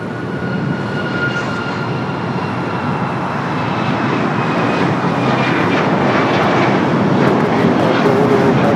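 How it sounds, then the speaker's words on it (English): A Boeing 737 MAX 9 jet airliner departs Los Angeles airport for Denver, its engines a loud, steady, broadband roar that holds and swells slightly throughout, with no voices. "Flight heading to Denver on that 737 at MAX 9"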